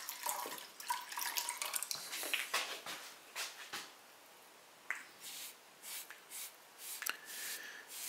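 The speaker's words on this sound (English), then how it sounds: "You need to rinse it out a little bit once in a while." Sponge being rinsed in water while decorating a clay two-footed bowl, with splashing, dripping and squeezing sounds in irregular bursts, close and fairly quiet, without any talk.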